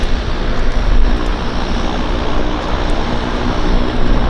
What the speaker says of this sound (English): So we've got another Twin Otter takeoff